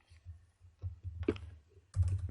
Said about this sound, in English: let me just type it here